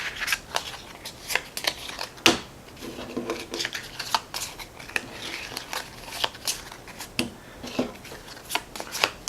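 Stack of Fantahzee Hordes and Heroes monster cards being shuffled by hand, close and crisp, in repeated riffling bursts and sharp flicks and slaps across the whole stretch, with no talk.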